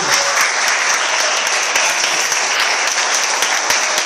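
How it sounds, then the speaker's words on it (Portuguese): A church congregation gives a loud, sustained round of applause, dense clapping that fills the room evenly throughout with no voices over it. "Uma salva de palmas para Jesus."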